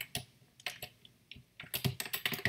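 Someone types on a computer keyboard with irregular, close clicking keystrokes, sparse at first and then a quicker run of presses, with no talking.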